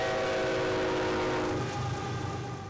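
A train passes a rural railroad crossing near farm fields, a sustained rumbling roll with steady tonal horn-like bands that hold and slowly fade, no voices.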